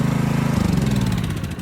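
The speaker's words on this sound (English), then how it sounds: "I'm just shutting the engine off so I can not have to yell" A boom lift's engine running near at a steady idle, a dense low rumble with a continuous throb that holds, then eases slightly before tapering as it winds down; no voices over it.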